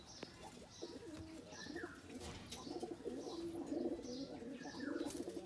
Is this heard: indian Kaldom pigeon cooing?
yes